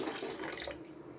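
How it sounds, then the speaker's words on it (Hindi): About a liter of water poured into a pot of daal (lentils) with onion and tomato while cooking, a brief steady splashing rush, close and moderately quiet. "अब इसमें मैं ये 1 लीटर पानी डाल रही हूँ"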